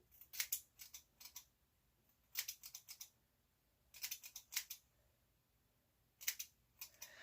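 Scissors snip through hair while bangs are cut, in quick clusters of three to five crisp, close snips separated by short pauses, faint and with no talking.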